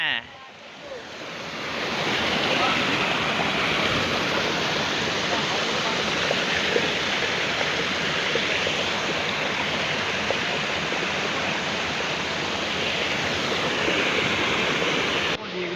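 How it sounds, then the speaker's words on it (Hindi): Rushing water from a village waterfall in rural Rajasthan, a loud, continuous broadband roar close to the microphone that holds steady for about fifteen seconds with wind buffeting at times. "झरना आ रहा है"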